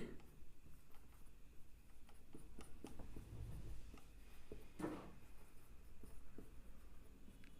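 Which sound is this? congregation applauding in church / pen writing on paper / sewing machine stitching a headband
pen writing on paper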